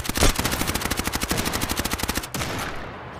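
Rapid automatic SMG gunfire in a shooter video game, a steady burst of evenly spaced shots lasting about two seconds, loud and close, then cutting off into a softer lingering tail.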